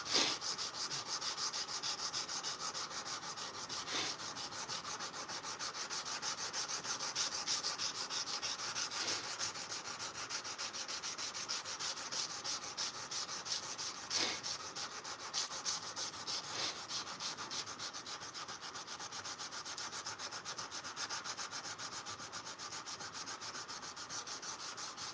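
Hand sanding a forged knife blade with sandpaper, a continuous steady rasping rub in long repeated strokes, even in level and close by throughout.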